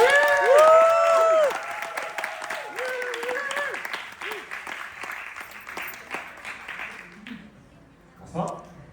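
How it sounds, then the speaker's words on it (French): Audience applause at a talk evening, a dense crowd clapping mixed with tonal musical sound at first, then thinning to scattered claps and fading out near the end. "Je vous prie, s'il vous plaît, de faire un tonnerre d'applaudissements pour Marc."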